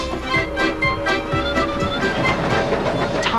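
A passenger train in Canada rolls steadily along the railway tracks, with a continuous rumble and faint rhythmic clatter of the wheels, moderately loud and with no talking.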